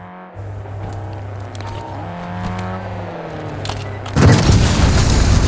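A vehicle approaches in the Warzone video game, first as a steady engine drone under game sounds, then a sudden loud boom and roaring rumble near the end.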